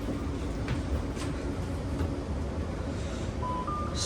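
Steady low rumble of a Caltrain southbound limited-stop train 412 heard from inside the car, with continuous rolling noise and a faint rising electronic tone near the end, no talking.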